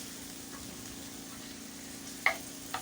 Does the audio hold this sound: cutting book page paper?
no